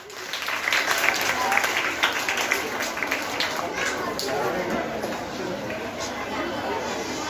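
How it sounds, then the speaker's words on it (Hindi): Applause in a hall at a school Teachers' Day celebration as a performer is welcomed on stage: loud, sustained clapping from a large crowd, mixed with background chatter and murmur throughout. "आए ज़ारा को बुलाए तालियों के संग"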